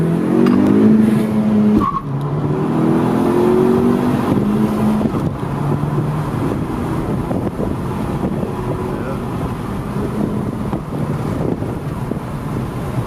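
A turbocharged 10th-generation Honda Civic Si with an upgraded turbo roars loudly and climbs in pitch as it accelerates hard in first gear, with wind rushing over the microphone.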